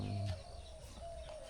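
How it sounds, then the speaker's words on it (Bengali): A dove (ghughu) calls from trees beside an outdoor spot where children play badminton: low, soft coos at the start, then faint thin tones over a quiet, airy background. "ওদিকে অনেক গাছ, ঘুঘু পাখি ডাকতেছে।"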